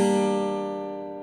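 Electric guitar sounding a single barred chord shape, struck once and left ringing as it slowly decays, close and clean with no talk.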